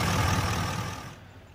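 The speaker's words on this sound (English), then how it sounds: "Again, there's your engine." A 2017 Chevy 2500HD Z-71 LTZ 4X4 with an unmodified Duramax diesel engine runs nearby, a brief moderately loud low rumble that fades slightly toward the end, with no voices.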